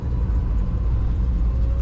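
A 1955 Chevrolet Bel Air Convertible engine hums steadily from inside the car as it drives in freezing winter weather. The low rumble stays constant and close throughout, with no voices.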